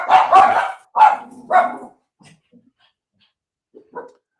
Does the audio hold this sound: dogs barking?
yes